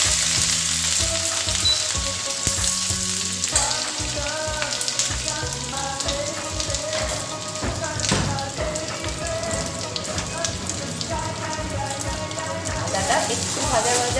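Garlic and ginger paste frying in hot oil gives a dense, steady sizzle with crackling pops, close up and continuous, with some faint tonal sounds and no voices.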